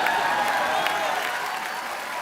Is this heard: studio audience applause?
yes